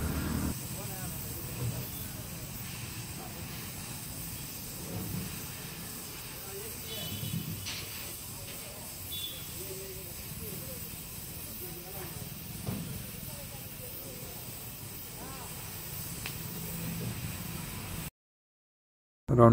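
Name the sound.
cutting a round circle in a 10 mm steel plate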